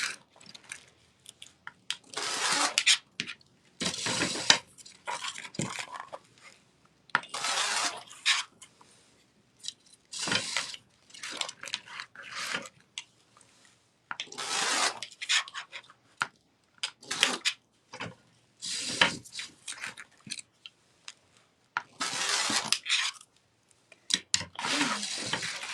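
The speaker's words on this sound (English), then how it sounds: "So this makes it just really fast to cut. The rotary cutter is great." A rotary cutter slices through deco mesh for an Easter wreath in repeated short, crisp rasping strokes, each separated by brief pauses, close and moderately loud with no talking.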